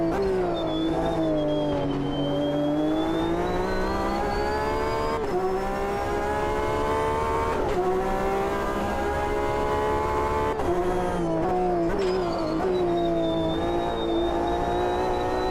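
A race car engine in the sim racing game Automobilista 2 roars steadily at high revs, pitch climbing and dipping with gear changes and brief shift breaks, loud and continuous with no talking.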